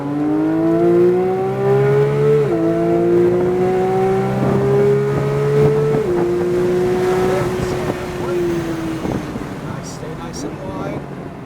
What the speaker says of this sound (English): accelerate to the orange cones, and lift, back to the green, adding speed,